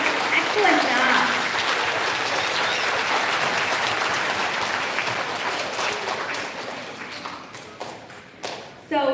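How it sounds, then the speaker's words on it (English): An elementary school audience at a student recognition ceremony applauds award recipients with long, full clapping that gradually thins out near the end, followed by a few scattered claps and a speaker beginning to talk. "can we get one more big round of applause for all of our recipients today?"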